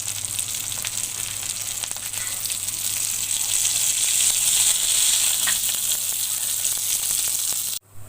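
Chana dal kababs fry in a pan with a loud, steady sizzle that holds throughout and cuts off abruptly just before the end.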